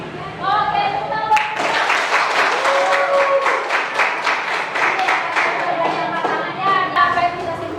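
A classroom of students claps together in dense, sustained applause lasting several seconds, with a teacher's voice and children's chatter mixed in underneath.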